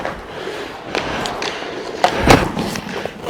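Hockey pucks fired at a goalie, with a bad rebound: a series of sharp thuds and cracks, the loudest near the end, over a steady rink background hum.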